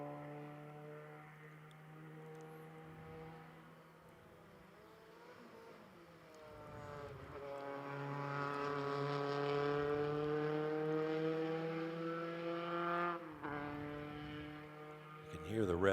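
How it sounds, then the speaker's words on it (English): A Formula Continental race car engine drones and then climbs in pitch on an uphill stretch, revving harder and louder as it strains, holding a high whine before easing briefly and surging again. "You can hear the revs, the engine working to haul that car uphill"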